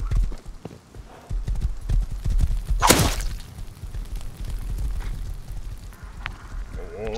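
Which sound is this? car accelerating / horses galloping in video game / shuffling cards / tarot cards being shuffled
horses galloping in video game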